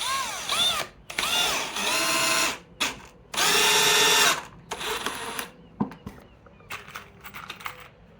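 Cordless drill driving 2.5-inch exterior pocket screws into 2x6 and 2x4 timber for an outdoor picnic bench, in several loud whirring bursts with rising pitch, separated by short pauses and lighter clicks.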